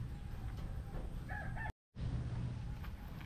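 A live native chicken clucks and calls close by over a dense, rumbling outdoor background, with a short cut to silence partway through.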